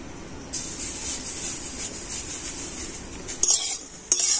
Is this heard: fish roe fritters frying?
yes